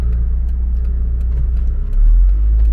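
A completely stock Mitsubishi Lancer Evolution VII drives at night in Bangkok, its engine a steady, deep cabin rumble that swells louder and heavier about two-thirds through as it pulls harder.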